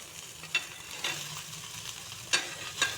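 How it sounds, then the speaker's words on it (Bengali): Chunks of raw green banana and potato tipped into hot spiced oil in a pan, with soft sizzling, a few sharp clinks and scrapes of the spoon or pan, close and steady. "এখন কাঁচা কলা আলুগুলো দিয়ে দিচ্ছি"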